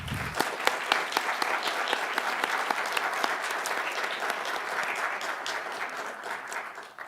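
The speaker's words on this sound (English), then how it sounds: "Let's give a round of applause to all of our students." An audience at a state poetry recitation final applauds the student competitors, with steady, moderately loud clapping and some sharp individual claps that fade slightly toward the end.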